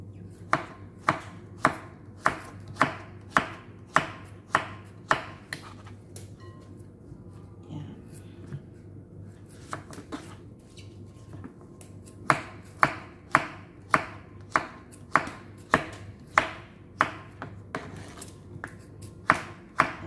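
A knife chops zucchini on a cutting board in quick, regular strokes, close and crisp, pausing briefly in the middle before the rhythmic chopping resumes.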